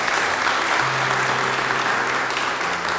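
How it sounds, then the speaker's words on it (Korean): An audience at a university anniversary thanksgiving service claps in steady, sustained applause for staff receiving commendations, a dense even wash of hands filling the hall throughout. "우수직원 선생님들께 다시 한번 큰 박수로 축하해 주시기 바랍니다."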